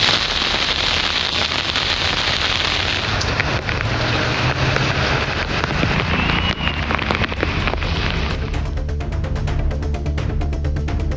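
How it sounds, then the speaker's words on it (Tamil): Heavy rain with strong wind pours down in a dense, steady roar of drops and gusts, loud and close throughout, with sharper pattering hits growing more distinct toward the end. "பலத்த காற்றுடன் கூடிய கனமழை பெய்தது"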